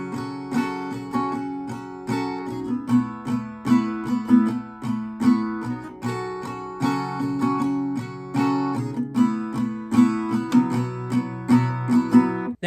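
Steady acoustic guitar strumming runs through the pre-chorus chord changes of a song. Brisk, evenly spaced strokes ring out close and clear, unaccompanied, over about thirteen seconds.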